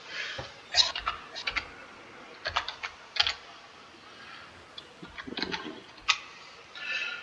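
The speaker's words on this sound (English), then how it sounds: "I've not got my clicky keyboard anymore, so I'm hoping that didn't come up too loud there" Typing on a non-clicky computer keyboard during PC play of Ark Survival Evolved, with short bursts of close, soft key taps separated by brief pauses.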